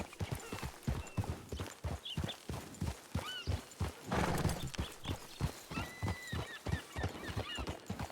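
Horse hooves clip-clopping in a steady walking rhythm, fairly close and continuous, with a short neigh partway through and no talk.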